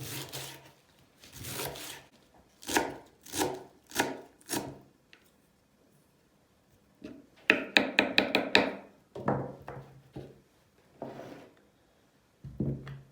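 Leeks are finely chopped with a knife for a homemade börek: crisp, close knife strikes come in quick rhythmic bursts separated by brief pauses, with no voices.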